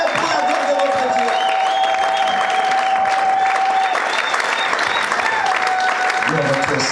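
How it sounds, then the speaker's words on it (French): A church congregation at a prayer and fasting service applauds steadily and loudly, the clapping continuous and dense, with a sustained voice or tone ringing over the crowd noise. "Acclamez pour la gloire de notre Dieu."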